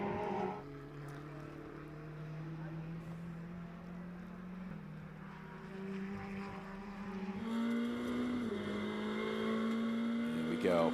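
A GT race car from the Blancpain GT World Challenge on the long Moraine Sweep at Road America, its engine droning and climbing through the gears from onboard, with commentators talking over it.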